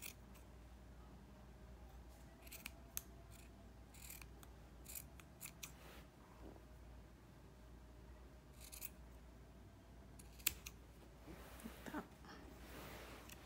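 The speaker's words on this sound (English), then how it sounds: "I like to just go ahead and cut that straight across" Scissors cut straight across knotted hair, making repeated soft snips and crisp clicks that are quiet and close.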